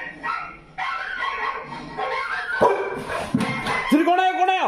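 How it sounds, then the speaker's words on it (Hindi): Recorded dog barks played to a Labrador at home: several sharp barks and yips in quick bursts, fairly loud and close, mixed with a person talking excitedly over them. "कौन आ गया जेरी, दूसरे डॉगी आ गए अपने घर पे"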